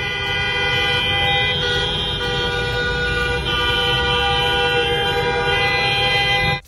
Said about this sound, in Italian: Io consiglierei di andare a suonare il clacson.